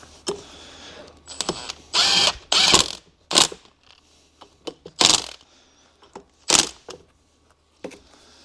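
Ratchet tightening the differential bolts on a Mercedes E55 AMG, in a series of short clicking bursts with quiet gaps, close and fairly loud, with metallic handling clinks between.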